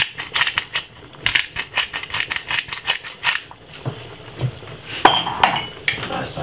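A pepper mill cracks black pepper over a pot of sweet potato soup, producing a rapid series of sharp clicking grinds, close and crisp, that then slow into a few scattered clinks.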